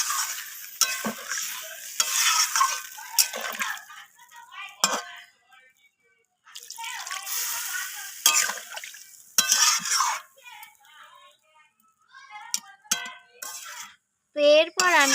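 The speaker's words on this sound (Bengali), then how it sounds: "তো এরপর আমি এখানে জল অ্যাড করে দেব।" Stirring and sizzling as water goes into frying spices for a rohu fish curry with cauliflower, flat beans and potato; close scraping and crackle come in bursts with pauses, and a voice talks over parts of it.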